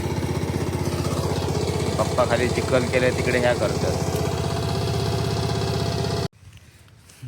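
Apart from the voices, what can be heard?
tractor engine running in a paddy field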